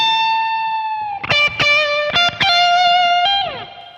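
Distorted electric guitar plays a short blues-rock solo lick: a held note, a quick run of picked notes, then a sustained bend sliding down, loud and alone.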